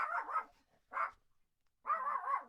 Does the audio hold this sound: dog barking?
yes